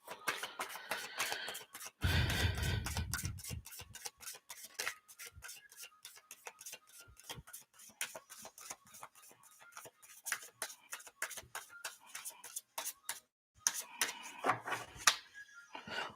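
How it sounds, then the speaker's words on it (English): Tarot cards shuffled by hand make soft, crisp clicks and ticks in an uneven rhythm, with a couple of denser riffling bursts. The sound is quiet and close. "Two more shuffles."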